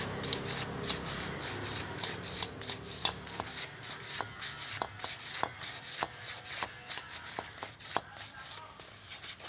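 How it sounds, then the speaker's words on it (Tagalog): Rapid, steady scratchy strokes of sandpaper rubbing a surface, close by, with occasional sharper ticks and no voices. "Talagang liha na lang. Liha para kuminis."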